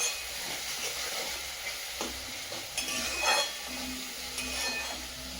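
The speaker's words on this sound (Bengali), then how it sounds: "মশলাটা একটু কষিয়ে দিচ্ছি।" Spice masala sizzling in a hot pan during home cooking, with a steady fry hiss broken by scraping stirs and a few light clinks of the spoon, close up and with no talking.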